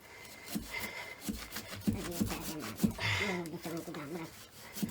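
Rough, rhythmic rasping strokes of a hand saw working through wood in a village, with voices talking over parts of it.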